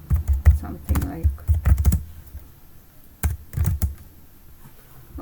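Computer keyboard typing while a template is edited in Canva: quick clusters of close, light key clicks in two short bursts separated by a near-silent pause.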